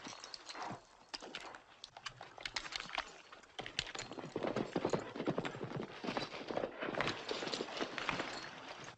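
Rapid clip-clop of several horses' hooves trotting, a busy continuous rhythm with faint voices now and then in the background.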